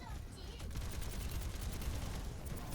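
D.Va fires missiles in the video game Overwatch, a faint, dense rattle of rapid small blasts running steadily through the whole moment.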